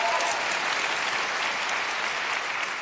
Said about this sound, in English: let's have another round of applause for these three amazing leaders